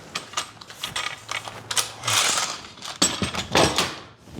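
Woodworking clamps on a paint-grade top being ratcheted tight, with quick clicking ratchet bursts and mechanical clatter close by, in short uneven runs.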